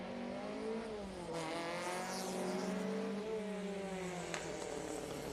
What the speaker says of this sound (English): Michael Rosa leaves the line in the Mark 1 Cortina GT.